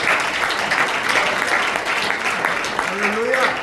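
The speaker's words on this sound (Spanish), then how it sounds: "Dale un fuerte aplauso al Señor" A church congregation claps loudly and steadily throughout a short stretch, with a voice rising briefly over the applause near the end.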